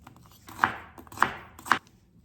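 Three knife cuts through onions into half-moon slices, each a crisp slice ending in a distinct thud on the cutting board, spaced about half a second apart; no talking.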